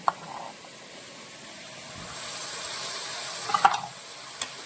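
Tomato, onion and green chilli fry in a pan with a soft, steady sizzle, while a few sharp clicks of stirring utensils come through close by.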